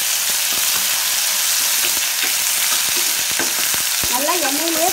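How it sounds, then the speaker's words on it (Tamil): Tomatoes frying in oil in a pan for wedding-style channa masala give a loud, dense, continuous sizzle close up, with repeated scrapes and knocks of a spoon as they are stirred, and no talking. "நல்லா எண்ணெயிலே ஃப்ரை பண்ணுங்க"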